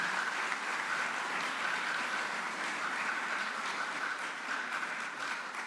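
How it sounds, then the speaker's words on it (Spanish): Sustained applause from a gathered audience honouring a murdered human rights lawyer, steady dense clapping filling the whole stretch at moderate volume. "pido un aplauso en la memoria de ese gran ser humano"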